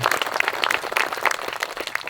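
A church congregation at a baptism service claps and cheers in a short, dense burst of applause heard close and continuous.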